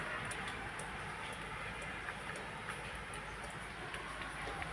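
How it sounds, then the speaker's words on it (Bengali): Heavy rain that has fallen since morning makes a steady, faint hiss with scattered soft drip ticks throughout, heard from a distance and without speech. "প্রচণ্ড বৃষ্টি পড়ছে, সকাল থেকেই আজকে বৃষ্টি নামিয়েছে। দেখো কিরম বৃষ্টি পড়ছে।"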